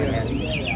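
A young oriental magpie-robin (murai blodok) at a bird kiosk gives a brief whistled call, heard alongside a voice.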